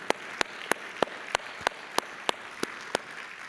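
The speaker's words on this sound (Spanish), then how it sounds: "Dale un fuerte aplauso al Señor" A church congregation claps during a sermon, a steady rhythmic beat of sharp claps about three per second over a soft, constant wash of applause.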